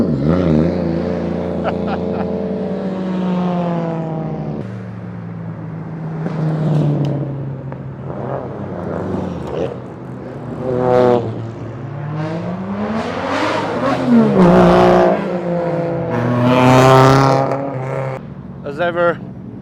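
Drift cars, a Nissan 180SX and a Toyota JZX100, set off on the touge course at Gunsai, with engines revving and climbing in pitch under continuous commentary.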